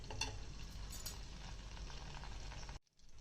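Mustard seeds, cumin, dried red chillies and curry leaves frying in hot oil as a tempering, a soft continuous crackle with a few light clinks near the start, no voices.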